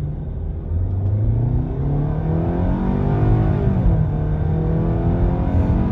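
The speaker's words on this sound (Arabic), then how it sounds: "خلينا نجرب لكم التسارع بنحط وضعية سبورت" A 2022 Hyundai Tucson accelerating in sport mode, heard from inside as a steady engine hum that rises in pitch while road rumble builds, continuous and moderately loud with no talking.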